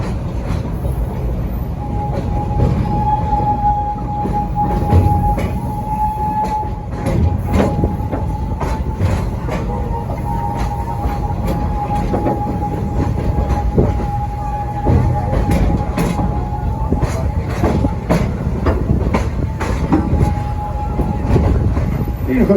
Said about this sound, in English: this is actually a real steam train